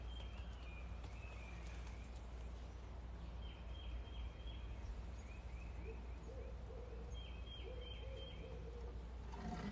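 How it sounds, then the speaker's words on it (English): Owls call outdoors in daytime, several soft hooting phrases repeating at intervals over a steady low background rumble, faint and somewhat distant. "Why are the owls out during the day?"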